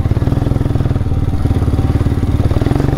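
A motorcycle engine sputters in a rapid, uneven putt-putt close by, loud and steady, with no voices.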